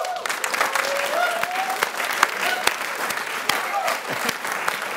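A studio audience applauds steadily and fairly loudly, dense clapping with a few sharper claps standing out and a voice or two briefly audible amid it.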